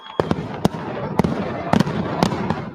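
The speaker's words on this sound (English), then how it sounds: "You're going to see some great fireworks." Fireworks bursting at the Bay City Fireworks Festival in the Great Lakes Bay region: about seven sharp, loud bangs come at irregular intervals over a continuous crackling, rumbling wash.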